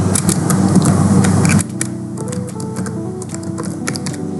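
Fast clicking keystrokes on a computer keyboard while switch commands are entered, dense and loud at first, then lighter scattered taps continuing alone.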